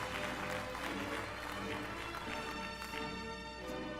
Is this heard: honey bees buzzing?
no